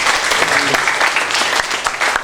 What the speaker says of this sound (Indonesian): Ya, tepuk tangan untuk Lamongan.